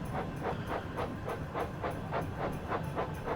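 A steam locomotive in the Train Sim World 6 video game double chuffing, with a steady, rapid run of loud, breathy exhaust beats over a constant rumbling hiss, no voices present.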